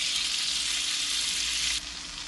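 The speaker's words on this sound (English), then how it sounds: "I'm gonna add some butter." Butter sizzles in a pan over a low flame, a steady, bright hiss that stays close and even, then drops slightly in level near the end, with no voices.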